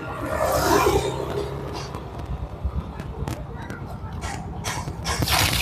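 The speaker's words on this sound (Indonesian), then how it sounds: "Oke teman-teman, kita uji coba pompa airnya ya." A modified C250 jet water pump runs at full power filling a pond, giving a close, rough mechanical whirr and rattle with a rushing undertone, while people talk over it.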